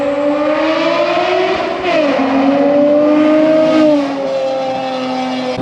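A 1991 Toyota MR2 driving on tree-lined back roads in central Massachusetts, its engine holding a steady droning tone that dips and climbs with shifts and throttle changes, loud, close and alone, echoing off the trees.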